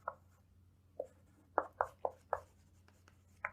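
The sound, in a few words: writing on a board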